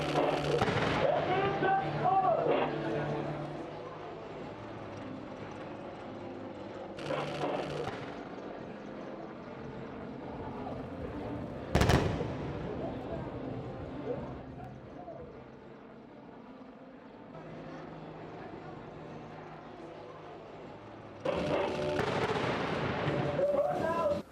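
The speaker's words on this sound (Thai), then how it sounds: "ทำการยิงทำลายที่หมาย โดยใช้ปืนใหญ่ขนาด 105มิลิเมตรพร้อมด้วยเครื่องยิงลูกระเบิดขนาด 120มิลิเมตรและ 60มิลิเมตร" Heavy booming blasts of 105 mm artillery and 120 mm and 60 mm mortar live fire during Cobra Gold 2025 military exercises ring out at intervals, one sharp crack standing out, with a voice talking between and over the explosions.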